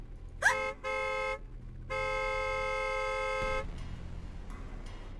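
A car horn honks as a sound effect in an audio drama: a short toot, then two longer sustained blares, loud and close, followed by a low engine rumble.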